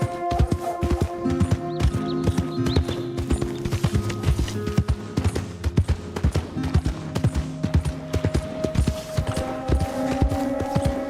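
Horse hooves clip-clop in a video game, a quick rhythmic run of hoofbeats played up close and fairly loud, with brief faint game sounds mixed in.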